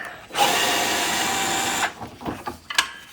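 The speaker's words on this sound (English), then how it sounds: "we're just taking off these screws on the fender" A power drill backs screws out of the fender of a 2002–2006 Acura RSX during side skirt removal. A loud, close whir runs steadily for about a second and a half, then gives way to short clicks and handling noises.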